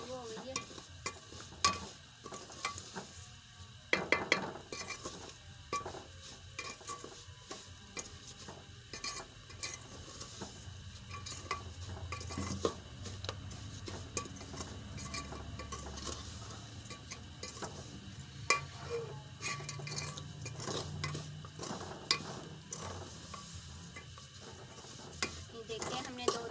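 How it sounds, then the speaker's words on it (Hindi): Sweet daliya is stirred and roasted in a pan, with a steady scraping of a spoon against metal and a low sizzle running continuously, with occasional sharper clinks. "देखिए हमने 2-3 मिनट तक इसे भूनना है ऐसे ही।"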